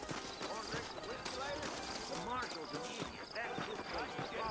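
Hooves of saddled horses clip-clop in Red Dead Redemption, a steady rhythmic trotting under character dialogue and ambient game sound.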